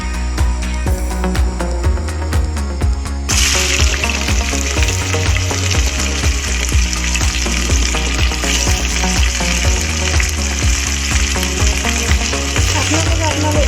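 Chopped onion frying in hot oil for a mutton curry, a steady loud sizzle that rises sharply as the onion hits the pan, with stirring scrapes and clinks over the continuous crackle.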